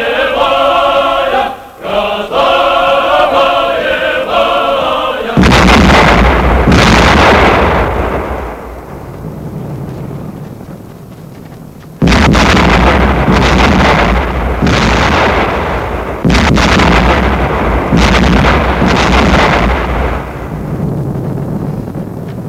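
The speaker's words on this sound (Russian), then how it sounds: "Это в кого же стреляют?" Heavy gunfire and artillery shooting in a 1937 Baltic naval film. Loud booming blasts with long rolling decays come in several separate bursts, and a brief stretch of music precedes the first shot.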